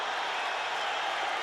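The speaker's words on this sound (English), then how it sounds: "Crowd on its feet in proper tribute" A boxing arena crowd on its feet cheering and applauding after Arturo Gatti vs Micky Ward II, a dense, steady roar of voices and clapping with no breaks.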